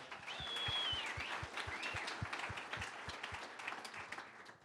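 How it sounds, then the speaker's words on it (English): An audience at the Utah Outdoor Association mid-year summit keynote claps, a soft, fairly distant patter of many hands with a few sharper claps and a brief whistle, fading slightly toward the end. "let's give a little round of applause for Mother Nature and 700 inches of snow this year"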